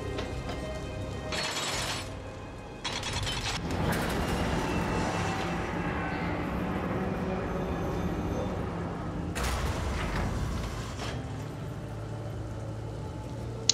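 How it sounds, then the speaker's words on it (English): Train in the Darksiders Warmastered video game: a continuous rumbling rail sound with clattering and bursts of brighter noise layered over it, fairly loud and steady throughout, with no talk. "That's the train I need to get on,"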